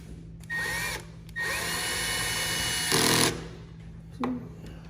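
A power drill drives screws while a vacuum motor is installed: several separate high-pitched whirring bursts of varying length, close and loud, with brief pauses between them and no talking.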